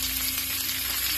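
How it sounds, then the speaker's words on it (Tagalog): Soy-marinated beef frying in a pan with sautéed onion and garlic, a steady close sizzle with a low hum underneath and no voices. "After ng paggisa ng sibuyas at saka bawang, nilagay po yun natin yung baka na marinated sa toyo"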